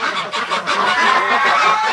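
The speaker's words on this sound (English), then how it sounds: "the silly duck" Loud, continuous quacking and honking from several wintering ducks nearby, overlapping calls without a break.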